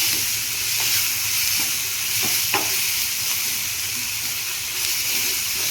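Red hotel-style chutney ingredients sizzle steadily in a pan as they are stirred, with a constant frying hiss and a few soft scraping clicks from the spoon. No one speaks.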